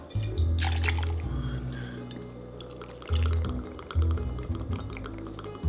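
Gin being poured into a jigger for a martini, liquid streaming in short bursts with pauses between pours, close and clear with no talk.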